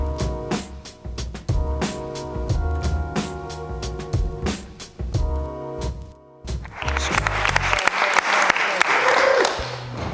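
Music plays for several seconds, then an audience at an urban culture summer academy bursts into loud, sustained applause, a dense wash of clapping that carries through to the end.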